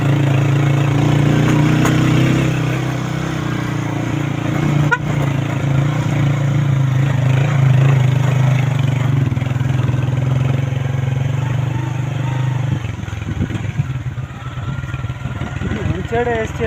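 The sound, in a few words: Honda 125 motorcycle engine running off-road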